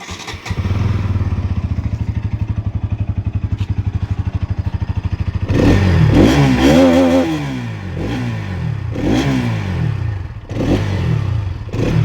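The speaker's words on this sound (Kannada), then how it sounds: "ಗಾಡಿದು BMC ಏರ್ ಫಿಲ್ಟ್ರ್ ಹಾಕಿವಿ, ಅದು ಗಾಡಿ ಸೌಂಡ್ ತೋರಿಸ್ತೀನಿ ನಿಮ್ಗೆ" A modified Bajaj NS200 motorcycle fitted with a BMC air filter idles with a rapid, even thrum, then roars through several loud throttle blips and revs close to the microphone.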